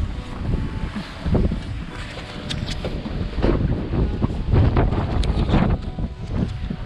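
Strong cold, wet wind buffets the microphone outdoors on a boat, with steady gusty rumble and roar throughout and occasional knocks and creaks, no speech.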